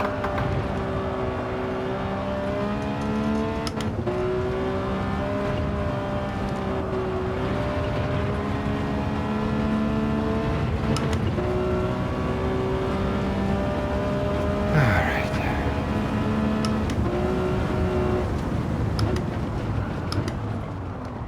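A steady, high-revving Ferrari racing car engine in the video game Gran Turismo 7 drones continuously, its harmonic whine holding a constant pitch with brief shifts, loud and close with no talking.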